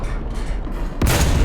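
A Valentine Mk.IX British medium tank fires its cannon in War Thunder: a single sudden, loud blast cuts in after a low engine drone and leaves a booming rumble trailing behind.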